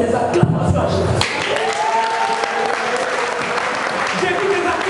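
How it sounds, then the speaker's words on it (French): A church congregation breaks into sustained applause and cheering that fills the space, steady and loud, with faint voices mixed into the clapping. "Est-ce que tu peux donner encore des acclamations à Jésus?"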